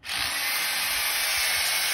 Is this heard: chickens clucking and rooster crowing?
no